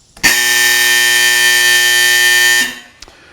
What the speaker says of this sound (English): the buzzer will go off